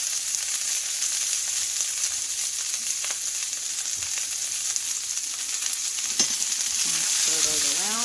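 Onions fry in a pan with a steady, bright sizzle that carries on without a break, and a few faint knocks and a short scrape of stirring come near the end.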